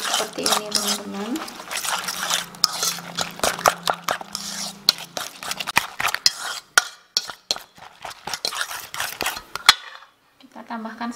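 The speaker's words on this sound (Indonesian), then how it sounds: "Kita aduk seperti ini teman-teman." Beaten eggs with broth powder stirred in a bowl with a utensil, giving rapid clinking and scraping taps against the bowl close up, with a voice speaking over parts of it.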